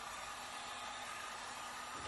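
A steady, loud rush of hot air from a heat gun, a constant broadband hiss with no breaks and no voices, used while installing speakers in a BMW 3 Series convertible.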